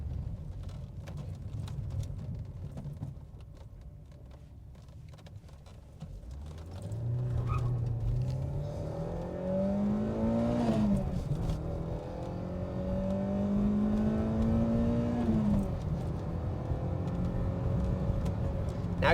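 A Peugeot 405 Mi16 sports saloon's engine climbs through the gears, its tone rising, dropping at each shift and rising again, over steady road and wind noise inside the car.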